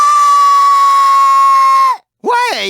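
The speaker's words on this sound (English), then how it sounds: "Why are you screaming?" A character in the Psychonauts video game lets out a loud, sustained, high-pitched scream that cuts off abruptly, followed after a short gap by a second wavering cry.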